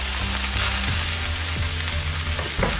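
White beans sizzle in a pan of fried onions, giving a steady, close frying hiss with a low hum under it and a few faint clicks of stirring.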